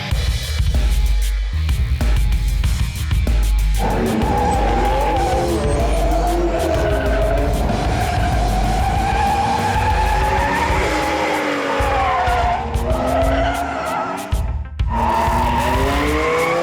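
Cars drifting sideways with tires skidding and squealing continuously, long wavering screeches over steady engine roar, loud and close throughout with brief lulls.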